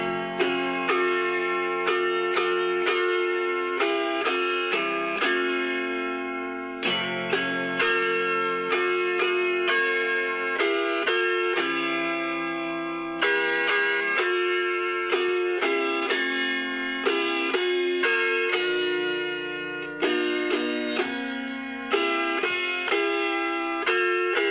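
Autoharp playing Red River Valley, melody picked over brushed chords in a steady lilting rhythm, bright metallic strings ringing and overlapping, close and solo without any voices.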